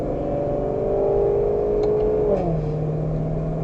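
A Lexus GS in Sport Plus manual mode with traction control off accelerates hard up a Mexican interstate on-ramp. The engine note climbs steadily and loudly, then drops sharply on an upshift and settles into a lower, even drone.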